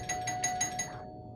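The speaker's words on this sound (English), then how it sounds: "The doorbell rang again, and again, and again." A doorbell rings in quick repeated chimes, about five rapid dings in a row before cutting off, close and clear in a quiet room.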